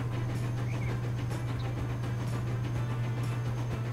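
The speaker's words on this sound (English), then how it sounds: "A very beastly looking sort of train there. And he'll happily chug along for us." A heavy train rumbles steadily along in Transport Fever 2, a deep constant drone with a faint clickety rhythm running through it, continuous and fairly close with no talking.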